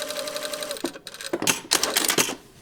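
Sewing machine stitching a stay stitch along the side of a shirt cuff, with short close bursts of rapid needle clatter separated by pauses and an underlying motor whine.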